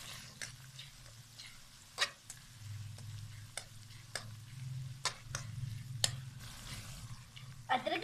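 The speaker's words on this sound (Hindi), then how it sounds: "अदरक लहसुन को अच्छे से 5 मिनट तक भूनेंगे" Ginger garlic paste frying with softened onions for a fish curry, a faint low sizzle with sharp spoon taps and scrapes against the pan at irregular intervals.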